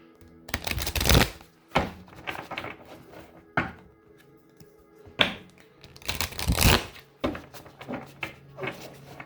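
Oracle cards are shuffled by hand in several bursts, quick riffling flutters and papery slaps separated by short pauses, close and crisp.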